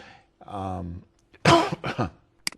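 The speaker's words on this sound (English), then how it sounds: "excuse coughing, please." A few throat-clearing coughs, close and sharp, separated by short pauses, with no talking.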